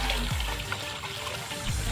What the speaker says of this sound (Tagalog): mga ilog. Medyo konti po yung kasi patuyo na po yan.